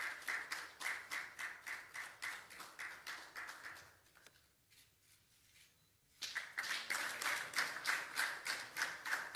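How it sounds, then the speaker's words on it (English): An audience applauds an Olympic boxing medalist at a Ghanaian presidential medal presentation, with steady rhythmic clapping that fades briefly to quiet near the middle before resuming just as strongly. "A round of applause for him."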